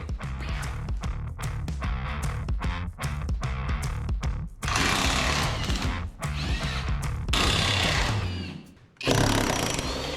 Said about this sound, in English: it is time to go ahead and loosen all these body mounts